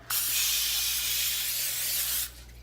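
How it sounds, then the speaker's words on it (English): A single steady hiss of aerosol cooking spray onto a baking sheet lasts about two seconds, close and fairly loud, then cuts off. "spray this cooking sheet with Pam"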